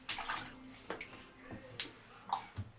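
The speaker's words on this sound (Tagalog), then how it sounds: "Minsan inatalsik dito ang tubig." Bathwater splashes around a nine-month-old baby during a bath, with a few soft, close sloshes and drips at irregular intervals against a quiet background.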